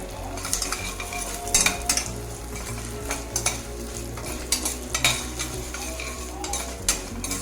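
Hot oil sizzles steadily with dry red chillies and asafoetida while a metal spoon stirs and scrapes against the pan in repeated clinks, close and fairly loud, no voices.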